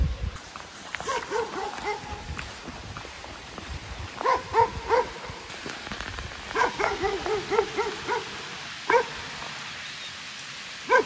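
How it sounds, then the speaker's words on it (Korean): Several dogs bark loudly and repeatedly near a house in a rural hamlet, in irregular bursts of overlapping barks at moderate distance over outdoor background noise. "개 짖는 소리가 엄청납니다."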